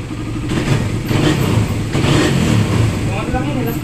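Motorcycle engine running steadily after a carburetor cleaning, with accessories fitted; a continuous mid-pitched engine drone up close with slight revving swells, and someone talking over it.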